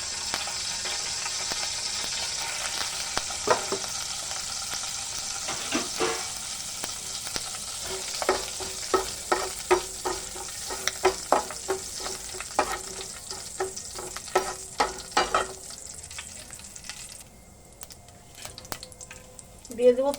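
Whole spices sizzle and spit in hot refined white oil in a pan, a steady bright frying hiss with scattered crackles and stirring scrapes running for about fifteen seconds before the sizzle thins out.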